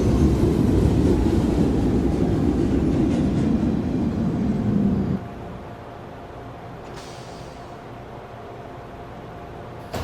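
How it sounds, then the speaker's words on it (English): A Manhattan-bound New York City subway 1 train runs loud and close for about five seconds, its broad rumble then dropping sharply to a quieter, steady hum as it slows or moves away. "This is a Manhattan-bound 1 train."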